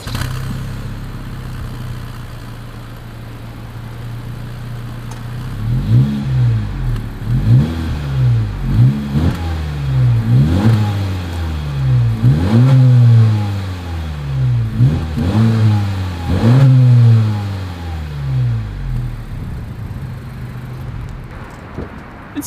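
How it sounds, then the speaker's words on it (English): A 2021 Honda Civic hatchback with centre-mounted dual chrome exhaust tips idles, then is revved repeatedly in a series of rising and falling blips, captured from close behind the car with no talking. "As always, here is that exhaust clip."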